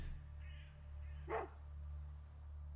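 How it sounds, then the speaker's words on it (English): A single short dog bark in the ATOM RPG video game, fairly faint and set against a steady low background hum. "The barking of his mutt."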